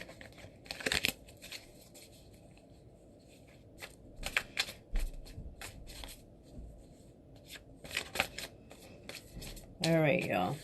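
Tarot cards are shuffled and riffled in short, crisp bursts of flapping and snapping, spaced by quiet pauses, close and fairly soft, with a voice speaking briefly at the end.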